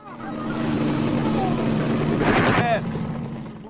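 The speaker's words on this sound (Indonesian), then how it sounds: "sebuah helikopter tiba" Helicopter arriving over the Amazon jungle, a steady rotor and engine drone that swells louder toward the end and is partly masked by narration.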